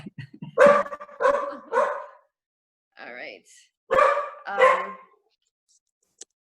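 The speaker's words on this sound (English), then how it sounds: "I have a dog barking and I'm trying to calm her down" A pet dog barks in several loud, close bursts indoors during an online conference call, with a short pause between groups, and a person briefly speaks near the end.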